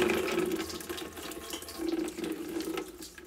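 Leaking sink tap in a cellar, water running steadily with a splashing, hissing flow that surges and eases slightly, close and continuous, with no talking over it.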